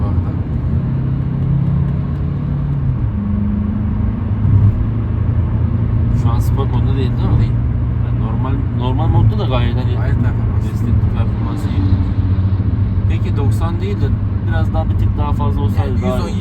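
An Opel Astra 1.3 CDTI diesel engine drones steadily at full throttle from inside the cabin, a low, constant rumble running beneath a person talking throughout.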